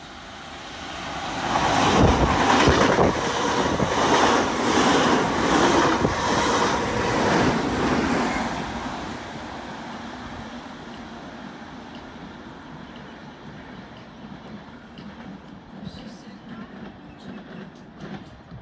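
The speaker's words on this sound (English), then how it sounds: "The next train does not stop at this platform." A train roars past a station platform at speed without stopping, with rattling, clattering wheels, loud for several seconds, then fades away into quieter rumbling.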